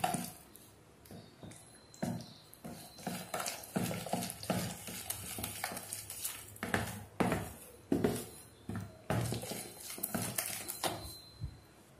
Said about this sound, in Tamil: கட்டியெல்லாம் கொஞ்சம் கூட இல்லாமல் நல்லா கரைச்சிக்கோங்க